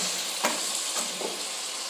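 Chopped large red tomatoes fry in a pan for Punjabi-style rajma masala, giving a loud, steady sizzle close by with a brief stirring scrape partway through.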